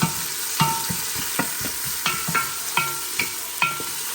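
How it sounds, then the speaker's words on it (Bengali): Chopped onions fry in oil with cinnamon and cardamom for chicken biryani, giving a continuous sizzle broken by regular clacking strokes of a spoon against the pot, close and fairly loud. "হালকা বেজে নিব পেঁয়াজগুলো বাদামি কালারের হয়ে গেছে"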